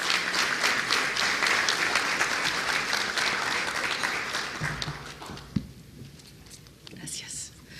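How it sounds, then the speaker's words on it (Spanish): An audience at a finance ministers' panel event applauds to welcome the moderator, a broad wash of clapping that thins out and fades after about five seconds, leaving quiet room sound. "recibámosla con un caluroso aplauso"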